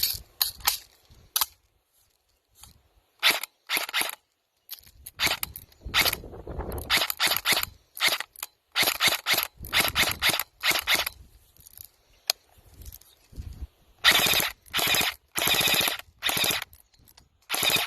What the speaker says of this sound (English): This is shooting about around 370 FPS with a .20 gram BB